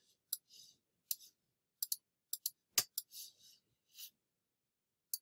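Computer mouse buttons clicking during web page editing, a series of sharp, close, dry clicks in irregular pairs and singles with short gaps, fairly quiet, no talking.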